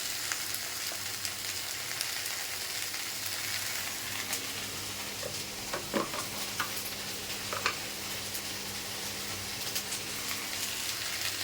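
Sliced okra fries with turmeric in a pan, giving a steady soft sizzle and crackle with occasional stirring scrapes and small pops, alone without talk.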